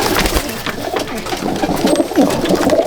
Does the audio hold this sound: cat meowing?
no